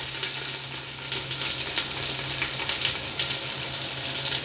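Garlic and onion sauté in a hot pan for lumpia sariwa, giving a steady, close crackling sizzle throughout with a faint low hum beneath and no talking.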